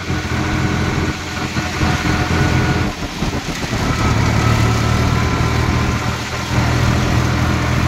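Swaraj 744XT tractor diesel engine running steadily on the road, a loud continuous drone with a low rumbling throb that dips briefly around the middle before holding at a constant pitch.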